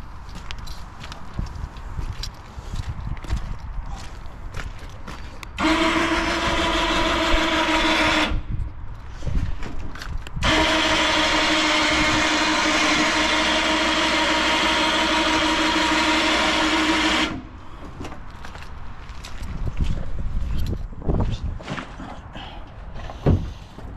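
A winch motor fitted inside a Volkswagen Transporter runs in two steady, loud whirring stretches separated by a short pause, with quieter workshop noise before and after.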